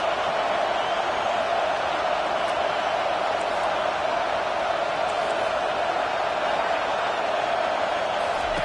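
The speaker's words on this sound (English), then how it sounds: "Listen to this crowd just shaking the girders of this place trying to help their defense." A stadium crowd at a football game roars continuously in a dense, steady wash of cheering and noise, with a commentator's voice faintly woven in.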